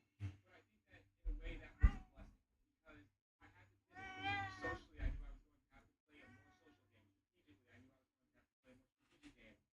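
A house cat meows a few times around a cat tree, its harmonic cries standing out between bursts of nearby talking and handling noise.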